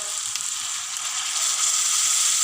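Garlic and ginger frying in hot oil for black pepper chicken, a steady close sizzle that holds evenly throughout and swells slightly toward the end, with no voices.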